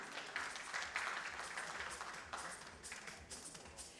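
Applause from an audience at an auto retail financing panel event, a steady wash of many hands clapping at moderate, somewhat distant level, continuing evenly for several seconds without voices.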